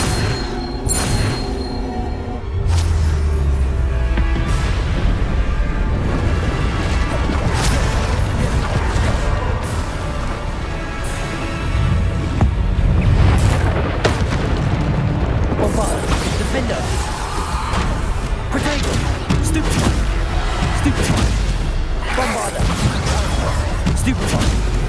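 Booming spell blasts from Bombarda casts in Hogwarts Legacy PC combat, heavy repeated explosions and crashes layered over a constant rumbling battle din, with voiced spell calls mixed in.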